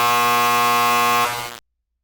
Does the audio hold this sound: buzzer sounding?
yes